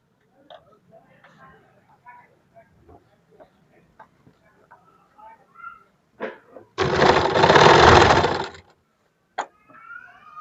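A sewing machine stitches across a trouser in one loud, steady run of about two seconds, preceded and followed by softer handling clicks and quiet talk.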